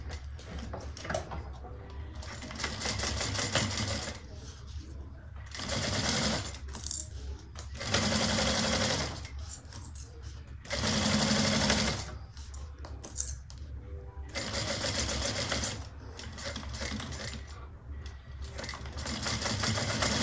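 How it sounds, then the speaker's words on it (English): A sewing machine stitches a bag seam in repeated bursts of fast, rhythmic whirring, pausing briefly between runs, close and moderately quiet. "I'm going to sew it on at 1/4 inch"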